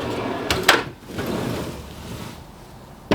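A metal drawer on an old mechanic's toolbox slides open with a short rattling scrape, close and fairly quiet, followed by faint handling noise.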